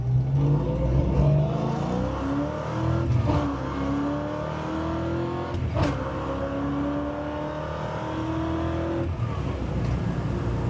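A 1970 Dodge Dart Swinger engine revs up through several gears, its pitch climbing and dropping at each shift, loud and close, with no talking.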